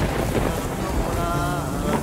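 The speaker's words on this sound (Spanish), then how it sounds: "Por lo menos dejanos pasar el aguacero." Heavy rain pours down in a dense, constant hiss, with a faint low rumble underneath.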